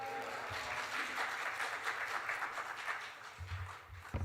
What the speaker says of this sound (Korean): 환영의 박수 함께 할렐루야로 외치겠습니다